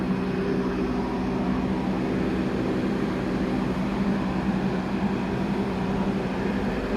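The Sembrani executive night train runs from Surabaya Pasar Turi toward Jakarta Gambir, a steady low rumble and drone of the moving carriage heard from inside, constant and unbroken throughout.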